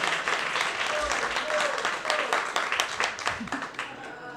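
Audience applause at a Denver roast battle comedy show, a steady broadband wash of clapping lasting the full stretch, fairly loud and continuous, with voices mixed in over it.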